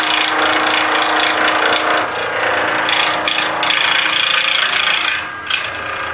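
A pen blank spinning on a wood lathe, cut with a small 3/4 inch spindle gouge, makes a close, continuous scraping and whirring with slight rhythmic flutter throughout; nobody speaks.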